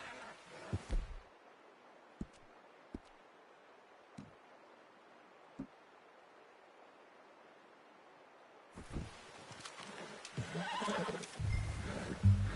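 A horse whinnies in the video game Red Dead Redemption 2, a short neigh at the start, then a few faint thumps in quiet, before a louder rustling stretch at the end.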